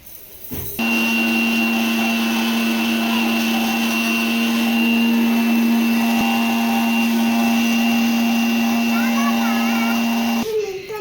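A kitchen mixer grinder grinds cumin and fenugreek seeds, starting abruptly into a loud steady whirring whine that holds for about ten seconds before cutting off.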